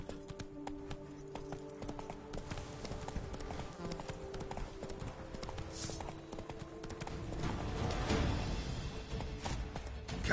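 Roach the horse galloping in The Witcher 3: Blood and Wine, a continuous rapid patter of hooves over ambient game sound, swelling slightly louder toward the end, with no talk.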